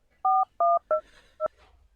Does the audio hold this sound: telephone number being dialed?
yes